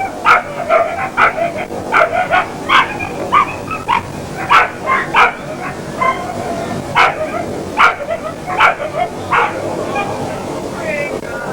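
Hounds at a lure coursing event bark and yip in a steady run of sharp, repeated calls through the whole stretch, loud and close, with a voice speaking over them.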